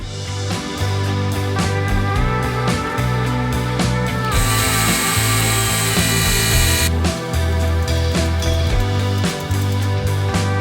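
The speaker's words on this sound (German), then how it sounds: "Zwei 1 mm Löcher für die Fixierung in der Wand und ein Loch für die Kabel" A small power drill bores 1 mm holes into a miniature 1/64 scale workshop diorama wall, a loud, close, continuous high whine that changes pitch as the load shifts, with no talking.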